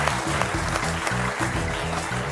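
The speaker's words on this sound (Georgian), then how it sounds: "აპლოდისმენტები." Studio audience applause on a Georgian TV comedy game show, a steady broadband clatter of clapping sustained for a couple of seconds over low tonal background music.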